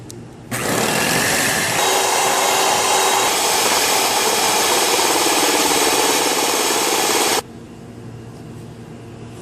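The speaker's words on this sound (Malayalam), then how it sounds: "ഇനി ഇവയെല്ലാം ഒന്ന് നന്നായി ബീറ്റ് ചെയ്തെടുക്കും" An electric beater whipping a cream and gelatin pudding mixture whirs loudly and steadily for about seven seconds, then cuts off, leaving quiet room noise.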